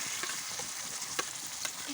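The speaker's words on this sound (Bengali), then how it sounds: "এবার আমি লঙ্কাটা দিয়ে দিলাম।" Chili paste hits onions frying in a pan for a dried-fish dish, giving a steady, close sizzle with a few brief scraping clicks of stirring.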